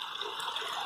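Silty water flowing from a new subdivision drain, a steady, faint rushing hiss, continuous and even, with no voices.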